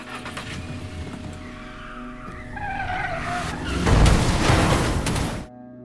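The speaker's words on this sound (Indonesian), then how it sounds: "muncullah Yoyi yang dengan nekat menabrak mobil yang membawa Kim." A car in a film skids hard and rams into another car. A sustained tire screech builds, then a loud, broadband crash of impact follows, with no voices.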